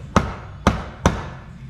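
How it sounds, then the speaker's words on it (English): Three sharp hammer blows strike a wooden guitar wall hanger piece, spaced about half a second apart, each a loud, close knock that decays quickly. "Just beat it in with a hammer real quick."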